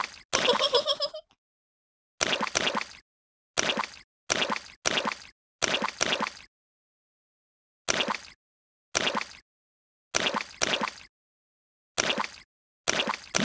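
Cartoon pigs splash in muddy puddles with a series of short, wet, plopping bursts separated by brief silences. The first burst is longer and busier than the evenly spaced ones that follow.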